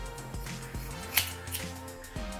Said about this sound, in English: we're going to cut this in half